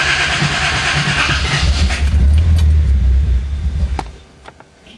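A car engine on MegaSquirt engine management tries a cold start, a loud low cranking rumble that catches unevenly and then sputters and fades, with a few sharp clicks and rattles near the end.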